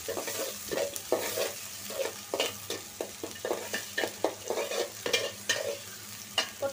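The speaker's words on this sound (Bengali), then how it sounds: "পেঁয়াজটা একটু লাল করে ভাজা নিব।" Onions and green chillies frying in hot oil, with repeated stirring scrapes and clatters over a steady close sizzle, loud and rhythmic throughout.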